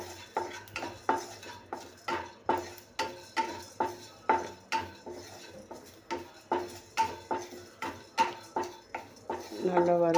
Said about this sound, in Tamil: அது கூடவే சேர்ந்து நம்ம சீரகமும் வறுத்தெடுத்துருவோம்